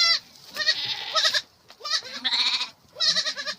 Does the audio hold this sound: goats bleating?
yes